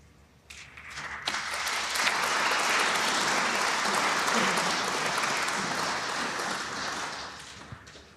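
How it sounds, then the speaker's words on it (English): Snooker crowd at a professional match applauding from a nearby table, a full sustained round of clapping that swells quickly, holds for several seconds and slowly fades, heard somewhat distant with faint talk. "More applause from table 2, where Oliver Lyons, this time thanks to a b"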